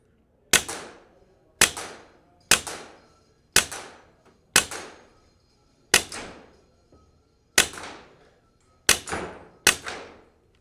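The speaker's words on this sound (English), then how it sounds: "we got a KYL rack downrange that we're gonna shoot" Semi-auto airgun firing pellets at a KYL steel rack downrange: nine sharp shots, each a crisp crack with a quick ringing tail, spaced roughly a second apart at an unhurried, steady pace.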